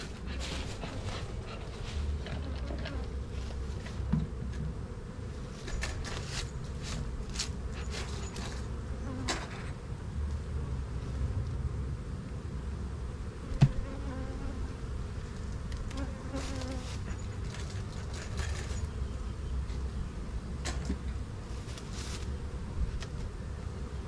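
Honey bees buzz in a dense, steady drone around an opened hive during a colony split into five-frame nucs. The swarm hums continuously and close, with occasional knocks of frames and equipment.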